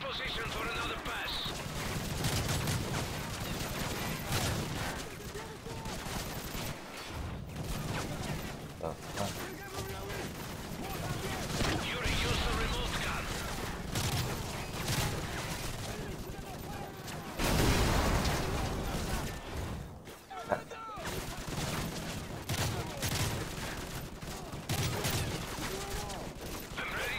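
Remote gun firing in Call of Duty: Modern Warfare 3, heard as continuous dense gunfire and explosions over half a minute, fairly quiet, with voices talking throughout.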